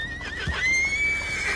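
A horse in Red Dead Redemption 2 lets out a loud, close whinny that rises and holds, with a few hoof thuds underneath.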